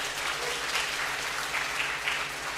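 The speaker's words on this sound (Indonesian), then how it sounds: "Tepuk tangan untuk semuanya." An audience at an academic talk applauds the speakers, a continuous, fairly loud wash of clapping from a room full of people.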